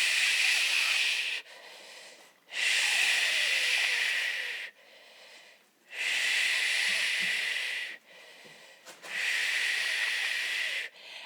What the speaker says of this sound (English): Big inhale into your back. And then exhale.